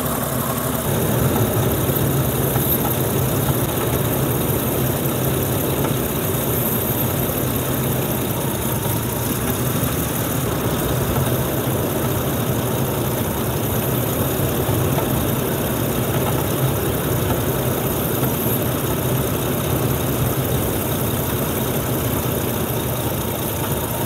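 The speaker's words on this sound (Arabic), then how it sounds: "وهنلاحظ طبعا في تغير في صوت المحرك." A car engine idles steadily with a low, even rumble and slight vibration, continuous and close, with no voices, during an intake carbon-cleaning treatment.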